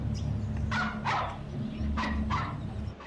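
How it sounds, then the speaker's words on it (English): Small yappy dog barking in The Terminator (1984), four sharp barks in two pairs over a steady low hum of film soundtrack. "The dog! He's a yappy little bugger."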